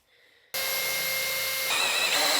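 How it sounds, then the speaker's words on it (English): After a brief quiet moment, a power drill kicks in loudly with a steady high whir, its pitch shifting slightly near the end. "Get your drill and give it a go."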